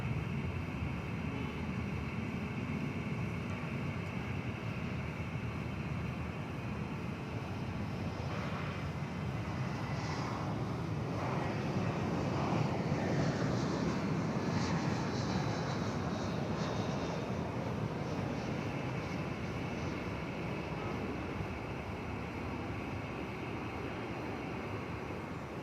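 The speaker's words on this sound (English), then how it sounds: "That Spirit A320 just touching down from Los Angeles, California." A Spirit Airlines A320 touches down at DFW Airport at night, heard from a distance as a steady broad jet roar that swells slightly midway and then holds without fading.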